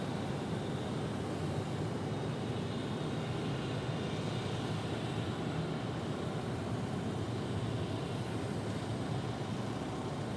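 An airliner landing on runway 8 at Phoenix Sky Harbor Airport gives a steady, even jet roar that holds at constant loudness throughout, with no voices.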